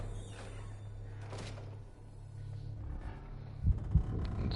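In the horror game Call of Cthulhu, a low heartbeat effect throbs steadily under a dark hum, with a few heavier thuds near the end.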